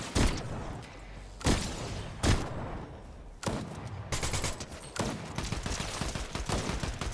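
Gunfire in the video game Fortnite during solo trios play: several sharp, loud shots at irregular intervals, followed by a denser stretch of rapid repeated firing.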